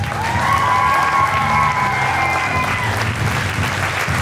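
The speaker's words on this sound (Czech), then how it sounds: "Přivítejte, prosím, velkým potleskem všechny naše dnešní tanečnice." An audience applauds dancers at a dance performance, a dense, steady wash of clapping that fills the room from start to finish with a few cheers mixed in.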